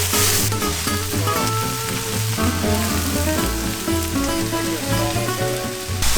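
Cherry tomatoes and minced garlic fry in a hot pan with a dense, crackling sizzle that stays close and loud from start to finish, with no voices.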